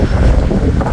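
Strong outdoor wind buffets the microphone with a loud, continuous low roar and rumble throughout, no voices present.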